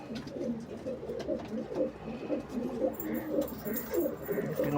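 Male pigeon of a Fulshira or Kalshira type cooing in repeated low rolling phrases, close and steady, with faint background hiss and no talk.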